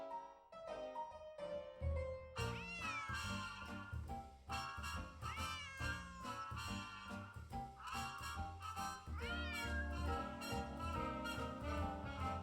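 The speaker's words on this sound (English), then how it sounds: "What does this cat want?" A cat in the Nancy Drew video game gives a few short rising meows, mixed into busy background game music that plays throughout without a break.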